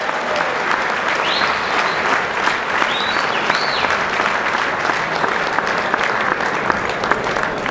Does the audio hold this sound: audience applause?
yes